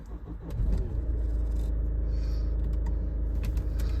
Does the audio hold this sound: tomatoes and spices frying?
no